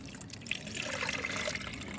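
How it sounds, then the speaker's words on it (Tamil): Fertilizer mixed into water is poured through a strainer, giving a soft, close trickle and dribble of liquid with small splashy drips over two seconds. "இப்போ இதையே வந்து 1 ஸ்பூன் எடுத்து தண்ணியில் கலந்து நல்லா வடிகட்டிடலாம்."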